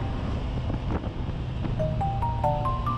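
Wind buffets a rider on a Honda Hornet 1000 SP motorcycle, a continuous rushing roar with soft gusts. Near the end a thin tonal whine climbs in steps beneath it.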